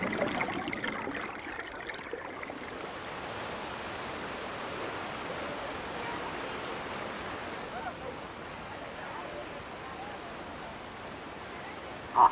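Steady rain falls outdoors on a lake trip, a soft, even wash of broadband hiss that holds for the whole stretch, with one brief louder knock at the very end and no speech.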